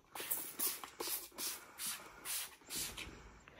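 A spray bottle mists a bed in short hissing bursts, about six quick squirts in a steady rhythm, close and fairly quiet.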